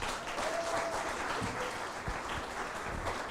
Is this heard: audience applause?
yes